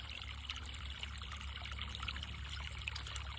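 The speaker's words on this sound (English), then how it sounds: "we'll let it spill over" Water spills over the edge of a wildlife viewing water tank in a steady, faint trickle and dribble, with no voices.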